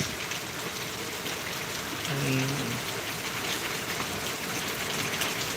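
A downpour on a hill makes a steady, broad rushing wash of rain, swelling slightly midway, with a short faint murmur of a voice around the two-second mark.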